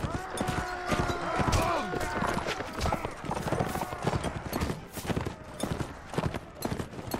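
In the Imperial Rome mod of the video game Mount & Blade: Warband, cavalry gallop with a dense, rapid clatter of hooves, loud and continuous, while someone talks over the rumble.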